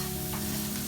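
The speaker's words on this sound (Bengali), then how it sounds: "আমি এটা আরো কিছুক্ষণ নাড়তে থাকবো।" Grated coconut chira fries in a pan while being stirred: close, continuous scraping under a steady dry sizzle.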